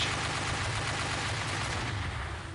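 Gunfire crackles in a dense, continuous burst during a marine commando beach assault demonstration at an international naval review, loud and sustained before tapering slightly at the end.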